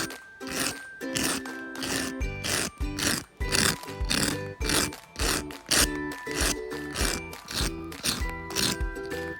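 Repeated close crunching as crispy, Kurkure-coated fried katla fish is bitten and chewed, a quick run of loud, crackly bites in steady succession.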